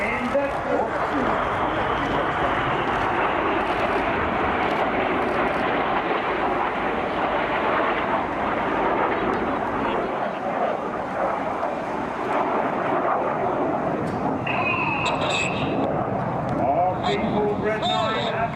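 Red Arrows display jets roar overhead at the Sunderland Air Show, a steady loud broadband rush lasting throughout as they roll in a corkscrew, with a commentator talking over the public address and faint crowd noise.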